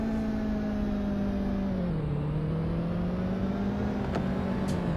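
A sports car engine in the 3DO video game The Need for Speed drones and purrs with a smooth low hum, its pitch dipping slightly and then holding, continuous and close.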